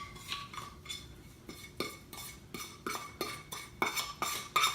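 Warm garlic fries seasoned with canola oil and black pepper are tossed in a bowl, giving repeated metallic clinks and scraping rattles in an uneven rhythm, close and fairly clear with no talking.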